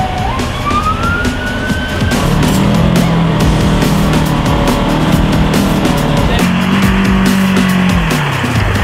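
Quad bikes on an off-road training trail roar steadily close by, the engine note rising and falling loudly, with long squealing tones sliding over the engine noise.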